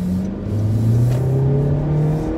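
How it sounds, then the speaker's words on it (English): A 2019 Honda HR-V in sport mode, shifted with paddle shifters, revs hard toward redline, its engine note climbing steadily in pitch as a loud, close whine inside the cabin. "It's letting the RPMs go right up to the red."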